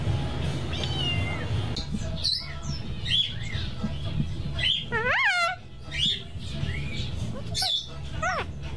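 A cat meows several times in drawn-out, rising and falling calls at close range, with a few short chirpy cries between, over light room noise and faint voices.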